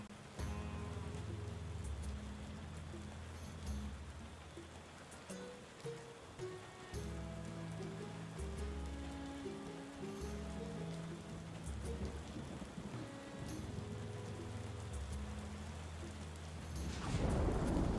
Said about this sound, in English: just listening to the tavern music here, and the ambience of falling rain